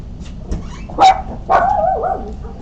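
Dogs bark up close indoors, a few sharp, loud barks followed by a drawn-out, whining yowl, with no talk over them.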